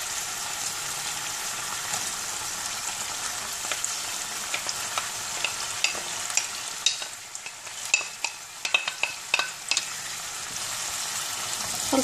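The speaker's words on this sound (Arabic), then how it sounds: "ودابا غادي نديروا البصله والفلفله والثومه" Onion, pepper and garlic frying in a pan, with a steady close sizzle and repeated clinks and scrapes of stirring that grow busier toward the end.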